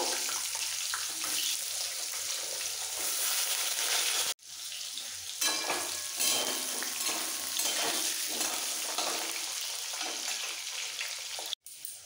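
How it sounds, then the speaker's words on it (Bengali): Washed, cut potatoes frying lightly in oil with tempering spices give a steady, close sizzle throughout, with occasional stirring scrapes and two brief breaks. "ফোড়নটা একটু ভেজে এর মধ্যে ধুয়ে রাখা কাটা আলুগুলো দিতে হবে। আলুগুলো একটু হালকা ভেজে নেব।"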